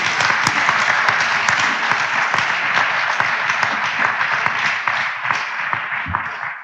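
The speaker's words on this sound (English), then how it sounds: "I want to just ask you for an applause for that" Steady, dense applause from a large audience at a university ceremony, loud and sustained throughout with no break, tapering slightly toward the end.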